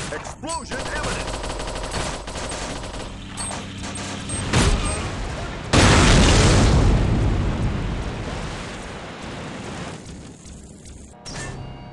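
A loud explosion blast with heavy rumbling debris in the video game Mobile Forces, preceded by rapid gunfire-like bursts and game sound effects, fading into a long rumbling tail.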